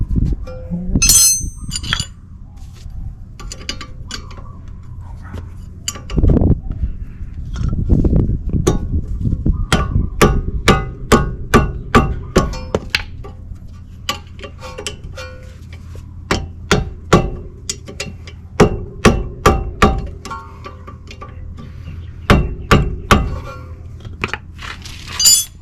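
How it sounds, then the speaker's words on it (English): Metal clanks and sharp tool taps from tightening bolts on the rear brakes of a 2008 Acura RSX during a pad and rotor job. Bursts of strikes and ratcheting clicks come in uneven clusters, close and fairly loud, with no talking. "Tightening up the bolts."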